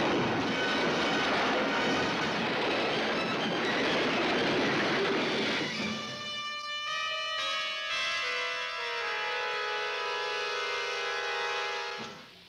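Train rumbling along the tracks in a 1970 western film trailer, a dense rolling roar that fades out midway into sustained ringing tones and a swelling orchestral chord.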